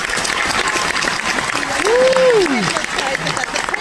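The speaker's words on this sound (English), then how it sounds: "you're going to get a big round of applause" Audience on a cruise ship during a magic show breaking into a round of applause, a short burst of clapping under a voice.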